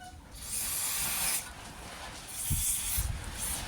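GT85 aerosol sprayed onto a car's rear subframe mount, heard as two bursts of broadband hissing spray, the first lasting about a second and the second a bit longer, fairly close, with faint clunks between.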